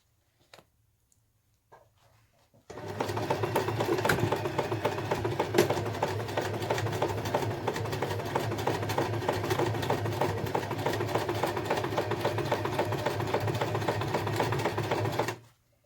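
A sewing machine runs a 2.5-length straight stitch on a handmade messenger bag, starting abruptly after a quiet moment and humming at a steady, continuous rapid pace for about thirteen seconds before stopping.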